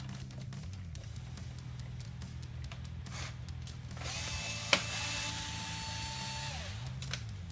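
T20 Torx screws being removed from the back of a Mercedes W204 C-Class COMAND display, with a faint mechanical whir and ratcheting tool noise, a short hum rising and falling near the middle, and a single sharp click.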